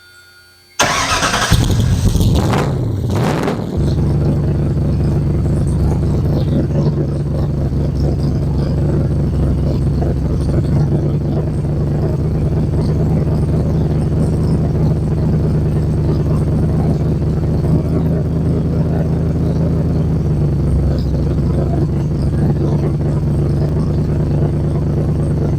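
A Factory Five Racing Roadster engine, fuel-injected with a Sniper system, cranks briefly several times, then catches and settles into a loud, steady idle that runs on close by without any talk over it.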